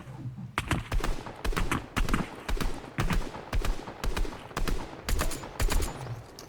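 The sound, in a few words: striker burst rifle firing in the video game Fortnite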